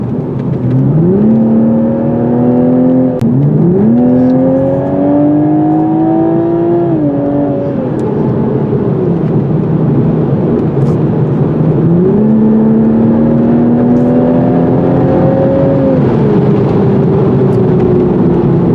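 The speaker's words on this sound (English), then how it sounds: "I'm going to enjoy the 6-cylinder. Because I want the extra power." A 2021 Toyota Supra's six-cylinder engine accelerating on the road, loud and close, its pitch climbing through several gear pulls with brief dips at each shift, a steady rising drone with no talking.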